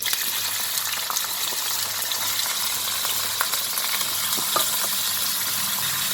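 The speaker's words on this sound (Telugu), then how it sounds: "అది బ్రౌన్ కలర్ వచ్చేంత వరకు యాంచాలన్నమాట ఉల్లిపాయలు." Onions and dried red chillies fry in a pan for gongura chicken curry, giving a steady, dense crackling sizzle that runs unbroken from start to finish with no voices.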